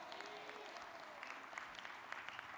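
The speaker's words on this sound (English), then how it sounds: "Give them all a warm round of applause." Convention audience at an NAACP gathering applauds in a steady, fairly quiet wash of many hands clapping, heard from a distance with no talking over it.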